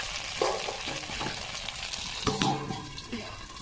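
Pointed gourd dish frying in a wok, giving a steady close sizzle broken by a few sharp clinks and scrapes of a utensil against the pan, with no talking.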